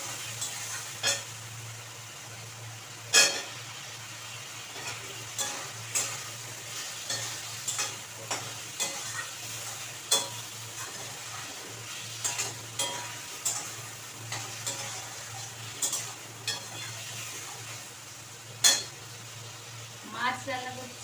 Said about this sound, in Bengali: মাছ রান্না করছি, কাতলা মাছ রান্না করছি।